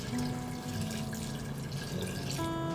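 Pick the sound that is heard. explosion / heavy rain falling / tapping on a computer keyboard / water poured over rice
water poured over rice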